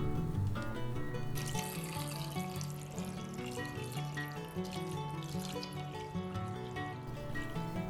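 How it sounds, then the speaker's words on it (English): Water pours steadily into a medium pan holding fruit for a Turkish Ottoman sherbet, a continuous close splashing and trickling that runs for several seconds, fairly quiet, with no talking. "Adding the water."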